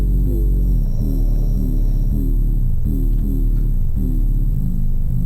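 An 808 bass run through a Big Crush distortion effect, giving a gritty, saturated low end. Loud repeating gliding bass notes fill the clip in a steady looping pattern with no talking.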